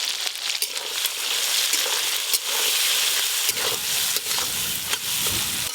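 Crabs fry in hot oil with turmeric, giving a steady broadband sizzle throughout with occasional stirring scrapes and bubbling bursts, close and fairly loud with no talk.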